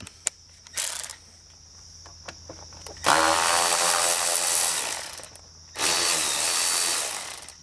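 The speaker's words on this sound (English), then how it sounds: "So I've got an extension with a number 3 Phillips on it." A number 3 Phillips bit on an extension works starter bolts loose on a Kawasaki Bayou 220 ATV, giving two long, loud bursts of close mechanical whirring from a power driver, separated by quieter clicks and pauses.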